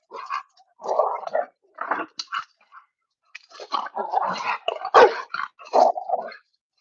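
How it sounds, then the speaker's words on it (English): Several dogs bark, growl and scuffle nearby in a backyard while wrestling, in bursts of sharp barks and snarls with short pauses between. "Sorry guys if you hear my dogs going crazy."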